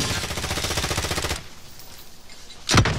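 Rapid enemy automatic gunfire in Call of Duty: Modern Warfare, a loud sustained burst of closely spaced shots that cuts off, then a single sharp loud report near the end.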